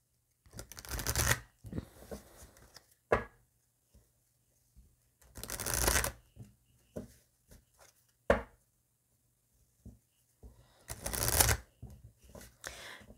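Tarot cards shuffled and cut by hand in three distinct bursts of riffling and flicking, separated by quiet gaps and a few sharp taps of cards against a surface, close and fairly soft.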